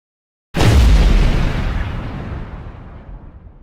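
A firework sound effect plays as a super chat alert: a sudden loud boom that swells and then slowly decays over a few seconds, on its own.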